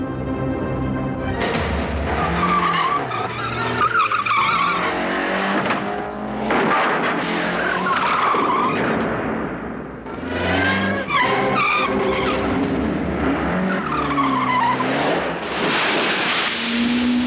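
Car tires skidding and squealing in a Continental Tires commercial, a loud, sustained wavering screech with engine noise beneath, continuous and close without speech.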